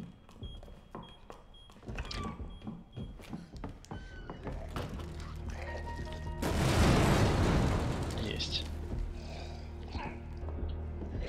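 A loud broad blast from a C4 explosion in Resident Evil 2 erupts midway, followed by a long rumbling decay, after scattered clicks and game sounds.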